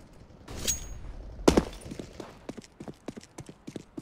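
A flashbang grenade goes off in a Counter-Strike-style match on the Mirage map, a sharp loud burst followed by ringing and a run of quick footstep-like thuds and clicks.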